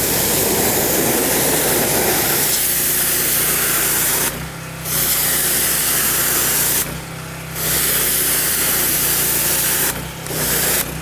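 Pressure washer blasting a large wooden deck, a loud continuous broadband hiss with three short pauses where the spray cuts off before resuming, no talking.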